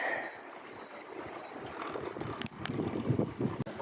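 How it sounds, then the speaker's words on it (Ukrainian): Gusty outdoor wind buffets the microphone in a garden, a rough roaring rush that swells and drops in uneven bursts, with no one speaking. "Ось такий у нас сьогодні вітер."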